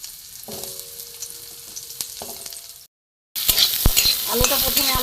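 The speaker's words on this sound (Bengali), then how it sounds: "প্রথমে আমি আলুটা ভেজে নেব। কড়া গরম হয়ে গেছে, আলুটা আমি প্রথমে ভেজে নেব।" Diced potatoes fry in hot oil in a pan with a steady close sizzle, broken by a brief silent gap and then a louder, brighter burst of crackling with a few scraping stirs.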